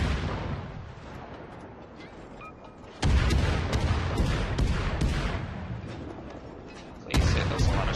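Warship main guns fire shells in World of Warships, the Kolberg cruiser in play: loud booming salvos, one burst around the middle and another near the end, over a rumbling battle bed.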